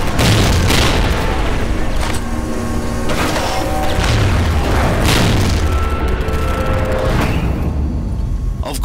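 Heavy weapon shells fire in Steel Battalion: Heavy Armor, armor-piercing and high-explosive anti-tank rounds launched from a mech cockpit, booming repeatedly at steady intervals amid loud, continuous mechanical rumble, with no voices over them.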